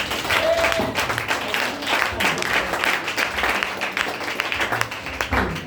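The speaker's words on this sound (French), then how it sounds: "Acclamez pour le Seigneur." A church congregation claps and cheers for the Lord during a French-language Sunday service, dense applause filling the room steadily from start to finish with a few voices mixed in.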